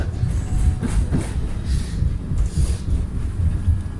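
A metro train rolls along with a loud, steady low rumble and wind noise, rhythmic clickety-clack thumps from the wheels repeating close by, no talking.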